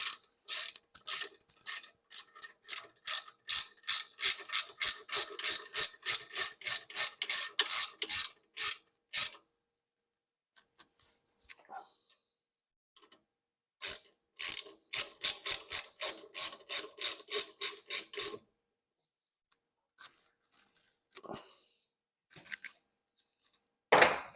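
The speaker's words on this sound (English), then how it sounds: "snug these down with the wrench, and then we'll torque them" A hand ratchet wrench snugs down rear brake bolts on a 2003–2009 Toyota 4Runner. Loud, rapid clicking runs in several long bursts separated by short pauses, with a few softer mechanical clinks between them.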